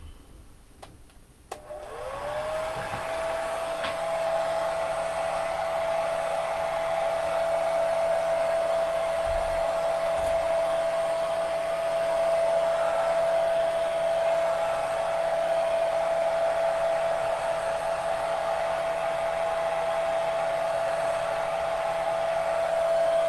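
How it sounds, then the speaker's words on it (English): A hairdryer on its cool setting blows steadily at a paper craft tag, a loud constant whir with a clear tonal whine that starts after a brief click and holds unbroken to the end. "I'm going to give this a quick dry with the hairdryer here."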